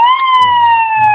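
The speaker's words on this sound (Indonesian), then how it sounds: "Ternyata ini ada sih truk pemadam kebakaran." A fire truck siren wails as a loud, steady electronic tone that barely shifts in pitch, with faint clicking underneath.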